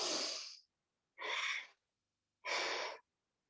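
Three audible breaths, a few seconds apart, taken during a yoga and Pilates stretch, close to the microphone and breathy, with silence between them.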